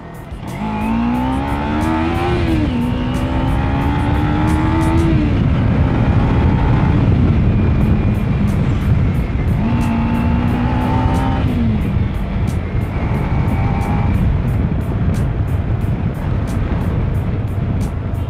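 Kawasaki Ninja 300 motorcycle fitted with a K&N air filter, ridden hard: a loud, steady engine drone that climbs through the gears in repeated rising sweeps, with no talking over it.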